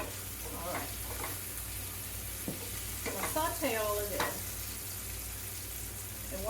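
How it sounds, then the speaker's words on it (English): Vegetables sauté in a pan with a steady sizzle, broken by a few clattering stirs and utensil scrapes near the middle, close and moderately loud, with no talking. "We'll saute all of this."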